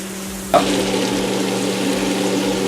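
Water is poured into a pot of browned Fiji-style masala goat curry, and a sudden splash gives way to steady sizzling and bubbling over a constant low hum.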